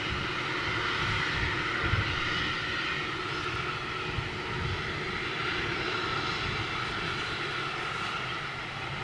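An ATR turboprop airliner with large carbon propeller blades drones with a steady propeller hum and engine whine over a low rumble, constant and moderately distant, with no voices.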